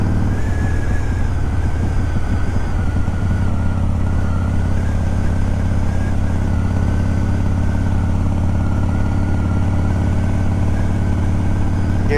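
A built Harley-Davidson Softail with a Twin Cam engine rumbles loud and steady while riding, a continuous engine drone with no pauses.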